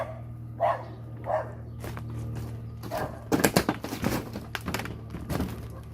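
A dog gives a few scattered barks at a moderate distance during a house roof tear-off, with some thumps and shuffling noises in between over a low steady hum.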